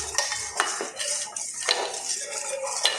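Metal kadai woks clanking and scraping as they are handled and set down on a gas stove, with several sharp close knocks and rattles scattered through a short stretch.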